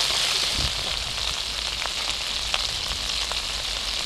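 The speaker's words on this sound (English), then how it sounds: "Look at that sizzle." Pork fries in a hot coal pot pan, giving a loud, continuous hissing sizzle with occasional small pops and crackles.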